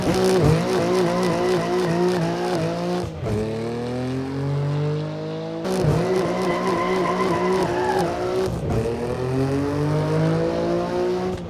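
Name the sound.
BMW M2 inline-six sports car accelerating down runway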